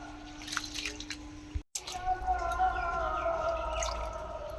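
Water swishing and dripping as rice is rinsed in a bowl, a close, steady trickle with drips and a short gap partway through.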